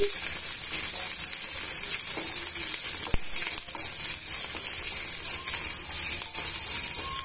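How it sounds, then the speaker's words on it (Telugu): Slit green chillies frying in hot oil sizzle steadily and closely, with a few light metallic clinks and stirring noises over the constant hiss. "ఇవన్నీ కూడా బాగా వేయించేసుకోవాలి"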